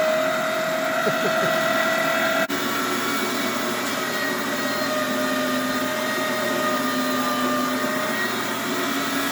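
A meat grinder processes deer meat with a continuous, droning motor whir that stays loud and close, with steady tonal hum throughout and a brief click near the start.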